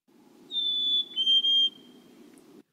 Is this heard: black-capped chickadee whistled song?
yes